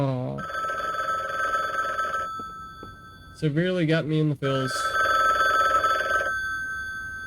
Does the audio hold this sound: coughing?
no